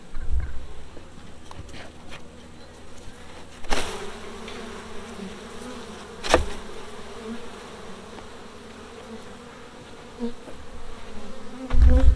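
Honey bees buzz in a dense, steady swarm drone as they are shaken from a nuc box into a larger hive box, with a few sharp thumps from the box standing out above the hum.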